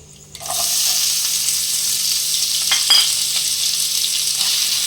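Sliced onion dropped into hot oil with dried red chillies and bay leaves for a dalia pulao, bursting into a loud, steady sizzle that holds close and continuous, with a brief clatter of stirring partway through.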